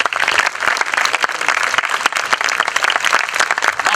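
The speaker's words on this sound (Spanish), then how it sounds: "Más fuerte el aplauso para el intendente Vergara por esta notable alocución" A crowd at an outdoor commemoration of the Armenian genocide in Plaza Armenia applauds after a mayor's speech, with dense, steady clapping that is loud and close and continues throughout.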